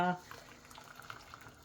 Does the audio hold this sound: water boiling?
yes